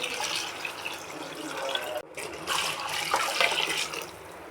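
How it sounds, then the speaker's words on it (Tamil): Water pours into a pot of soaked jeeraga samba rice and sautéed masala for mutton biryani, a continuous splashing rush with a short break midway, close by and alone. "இதில் நம்ம இப்போ 2 மடங்கு தண்ணி ஊற்றிக்கலாம்"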